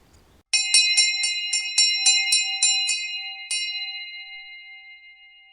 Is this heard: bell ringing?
yes